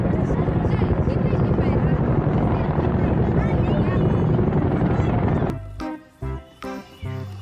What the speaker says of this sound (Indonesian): Helikopter militer, teman-teman.